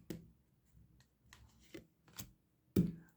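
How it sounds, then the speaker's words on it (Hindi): Tarot cards shuffled by hand in a quiet room, a handful of soft riffles and taps with one louder card slap near the end, close and fairly faint, no speech. "final shuffle"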